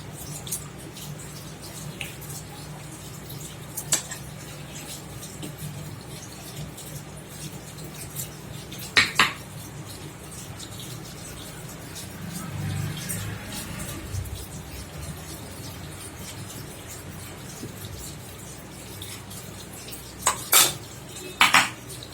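Idli plates lifted out of a steamer made with ration rice batter, a few sharp metallic clinks and clatters spaced across a quiet kitchen with faint steam hiss between them.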